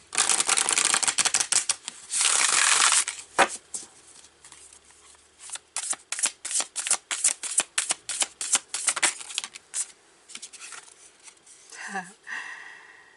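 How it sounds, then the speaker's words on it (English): Cards being shuffled in quick riffling bursts, with crisp fluttering clicks close by, a longer riffle early on, then many rapid snaps. "you saw me shuffle it like 3 times, so I shuffled"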